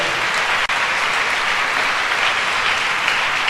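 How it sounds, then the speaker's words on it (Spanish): Dense, steady applause from a church congregation fills a brief moment during a sermon, a continuous even wash of clapping with one short break. "Denle un aplauso al Señor."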